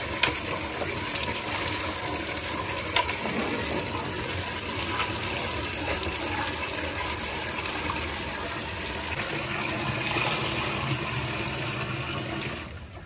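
Water gushing steadily from an open tap, a continuous rushing splash at close range that runs unbroken and tails off at the very end, with no talk over it.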